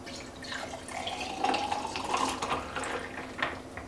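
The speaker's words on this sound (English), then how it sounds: "But here we go, the first pour." Sweet tea brewed from British tea is poured into a Ball mason jar, making a steady liquid trickle and splash that runs for about four seconds at close range, without speech.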